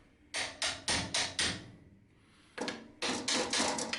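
A hammer strikes a metal katana backbone to bend it, with sharp ringing blows in two quick bursts of five and a pause between them. The hits are close and loud, and no one speaks.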